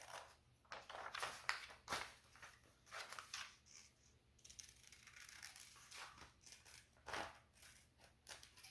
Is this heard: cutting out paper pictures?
yes